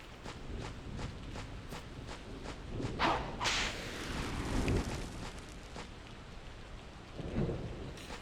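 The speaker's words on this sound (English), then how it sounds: "That thunder sound effect is very loud." Sharp cracks of thunder from a retro video game over a steady hiss of rain, with a loud crack and rumble near the middle and fainter claps before and after.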